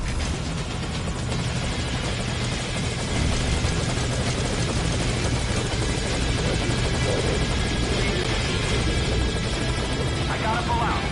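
Helicopter in the Metal Gear Solid V: Ground Zeros video game, with a loud, steady rotor thrum and engine roar filling the whole stretch.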